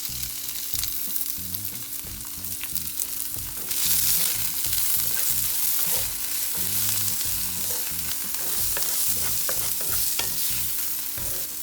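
Onions sizzle steadily in hot oil as a spoon stirs them through a chickpea salad mixture, a constant close frying hiss with scraping stir strokes.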